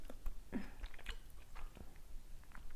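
Close, quiet chewing of a jajangmyeon burrito filled with crunchy raw cucumber, with soft irregular bites and crunches over a few seconds and no talking.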